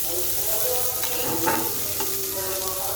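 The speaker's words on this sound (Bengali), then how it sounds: "পেঁয়াজ কুচি, কাঁচা লঙ্কা কুচি আর এই ক্যাপসিকাম কুচিগুলো আমি ভেজে নেব" Chopped onion, green chilli and capsicum fry steadily in a pan for a paneer roll filling, with continuous close sizzling and a few soft stirring scrapes, no talking.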